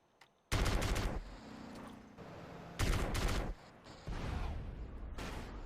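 Bursts of rapid gunfire from Grand Theft Auto: San Andreas, loud and sharp, coming in three separate volleys with brief quieter gaps between them.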